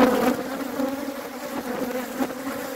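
Africanized bees buzzing close by near the hive, a dense continuous drone that swells and fades slightly as individual bees pass the microphone, with no talking.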